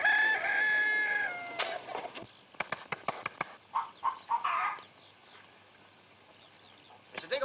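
Hens on a farm cackle and cluck in short, scattered bursts, with a rooster-like crowing call at the start, moderately close.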